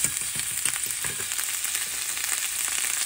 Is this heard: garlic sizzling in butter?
yes